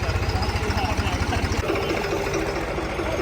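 A low, steady engine idles with a rapid rhythmic chug, then shifts to a smoother rumble partway through, with faint voices in the background.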